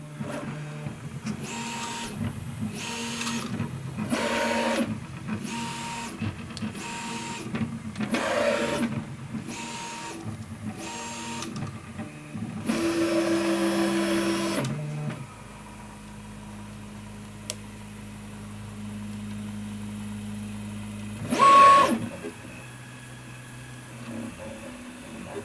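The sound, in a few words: 3D printer printing a skirt after filament reload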